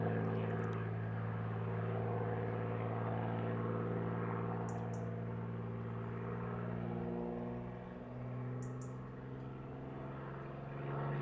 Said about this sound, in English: Nice clean stall turn with a half roll on the way down.